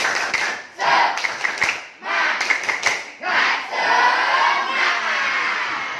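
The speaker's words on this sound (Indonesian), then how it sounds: "Oke, kita praktekkan. Tepuk semangat." A classroom of students performs a rhythmic Indonesian spirit clap, loud bursts of patterned clapping broken by short pauses, with shouted voices mixed into the beat.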